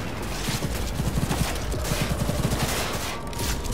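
Rapid rifle fire in the shooter game Cyberpunk 2077 crackles in short bursts over a dense, loud backdrop of game noise, the shots clustered in quick irregular volleys.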